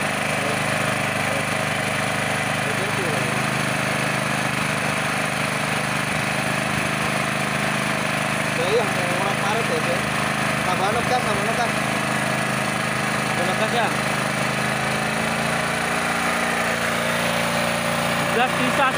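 A homemade 1500-watt generator runs on an LPG carburetor, its engine droning steadily and loudly throughout, with a voice speaking over it.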